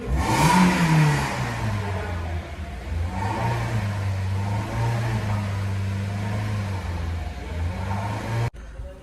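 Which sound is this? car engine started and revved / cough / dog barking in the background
car engine started and revved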